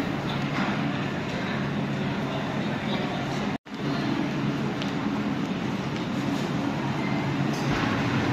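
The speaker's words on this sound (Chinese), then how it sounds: "地铁站就喺前面" Subway station ambience at Nam Cheong station in Hong Kong, a steady loud rumble of a train and crowd noise with voices murmuring throughout, briefly cutting out once midway.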